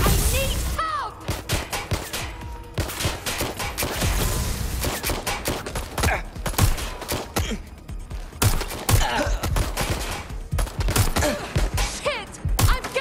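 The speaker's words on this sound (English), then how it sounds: "I'm getting shot at here!" Heavy gunfire aimed at the player in a shooter video game: dense, overlapping bursts of shots and impacts hammer almost without pause, loud and close, with a few crashes and whooshes mixed into the barrage.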